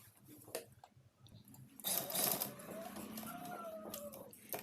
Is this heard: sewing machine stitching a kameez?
yes